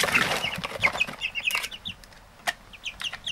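Chickens from a second batch of young birds cluck and chirp in a coop with litter bedding, close by, in busy overlapping calls with short sharp peaks throughout.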